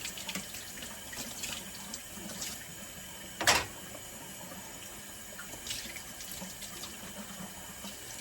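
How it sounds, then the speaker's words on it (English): Faucet water runs into a kitchen sink as small cups are rinsed, giving a soft, steady splashing stream. One brief, louder gush of water stands out midway, and there is no talk. "I rinse out my little cuppies."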